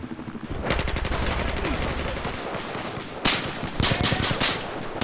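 Rapid automatic gunfire sounds in a Battlefield 4 match, with one dense sustained burst followed by a second loud burst, played loud and close with no talking.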